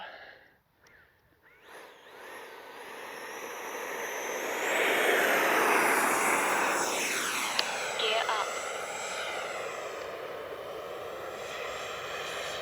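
An E-flite 80mm F-16 electric ducted fan RC jet on its maiden flight rises into a loud, steady whine that sweeps past nearby and then holds at a strong level, with a short gap near the start.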